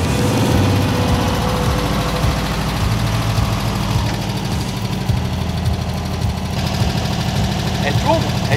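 An old car engine idles steadily nearby, a low rhythmic chugging rumble that holds an even pace throughout.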